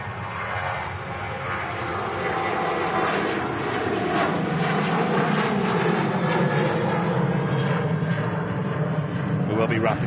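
An Airbus A380 jet departing Manchester Airport: loud, sustained engine roar that builds and holds steady for about ten seconds.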